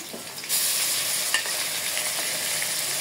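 Softened onions frying in a pan with spice pastes and ground turmeric sizzle loudly, the hiss jumping up sharply as the spices go in, with a faint utensil tap partway through; no talking.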